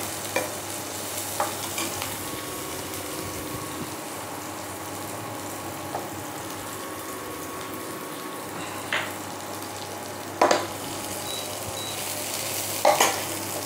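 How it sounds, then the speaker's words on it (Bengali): Ingredients for Bengali lau moong dal frying until golden, a steady soft sizzle up close with occasional sharp stirring clicks and spoon taps against the pan, and no talking. "এবার একটু ভালো করে ভেজে নেব। একটু গোল্ডেন কালার করে ভেজে নেব।"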